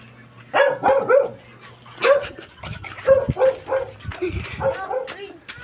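A dog barks repeatedly in short bursts, fairly close, with people talking in between the barks.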